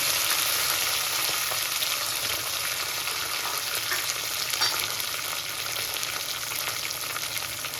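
Onions and curry leaves sauté in a hot pan, giving a loud, steady sizzle and crackle that runs unbroken throughout, with faint stirring scrapes.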